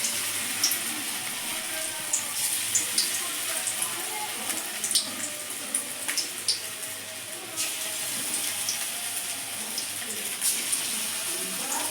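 Cauliflower pakoras fry in hot oil with a steady, fine crackling sizzle and scattered sharper pops, close and continuous.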